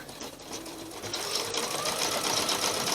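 Sewing machine running a test stitch for machine appliqué on a table runner, a continuous close rapid whirring hum that builds slightly louder over the clip, with no talk.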